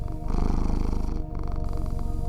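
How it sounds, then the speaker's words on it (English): A cat purring up close, a steady, rhythmic low rumbling vibration that continues unbroken with no voices. "Purring of a cat is a special ability they have."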